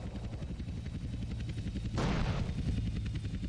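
A helicopter in Grand Theft Auto: San Andreas – The Definitive Edition thumps with a rapid, steady rotor chop, joined midway by a sudden noisy burst, with no talk.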